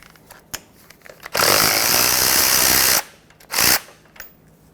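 A power tool with a 15mm socket loosens bolts on a 2000-2005 Ford Excursion during an outer tie rod replacement, giving a loud sustained whirring burst of about a second and a half, then a shorter burst, with small clanks between.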